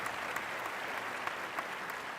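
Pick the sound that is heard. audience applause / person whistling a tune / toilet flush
audience applause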